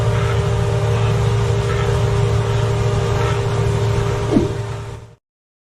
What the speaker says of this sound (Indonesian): Mesin pemanen ini beroperasi dengan ditarik oleh traktor dan berjalan tepat di atas tanaman dengan kecepatannya sekitar 2 km per jam